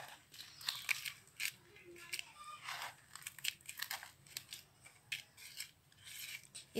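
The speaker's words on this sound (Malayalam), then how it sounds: "അപ്പം നമുക്ക് ഇതിലോട്ട് മണ്ണിട്ട് കൊടുക്കാം." Soil being added to a plant pot to plant an evergreen, heard as close, faint, gritty crunching and scraping scoops that repeat irregularly throughout.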